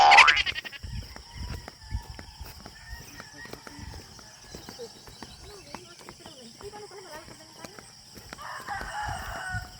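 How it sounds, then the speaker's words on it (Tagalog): A rooster crows loudly at the start, a rising drawn-out call, followed by quieter rural ambience in a Philippine province with scattered clucks and knocks, and another distant crow near the end. "di ba naririnig niyo pa yung mga tiktilaok ng manok"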